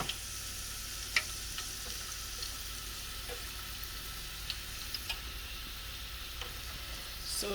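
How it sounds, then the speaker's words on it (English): Onion and garlic fry in a pot with a faint, steady sizzle, broken by a few small sharp pops and ticks. "we're gonna let the onion and garlic to fry a little bit."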